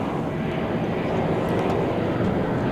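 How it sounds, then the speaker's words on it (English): An American Airlines Airbus A319 at Dallas Fort Worth airport produces a continuous, fairly loud jet engine roar with no talking. "It's an Airbus A319, American Airlines Flight 1803."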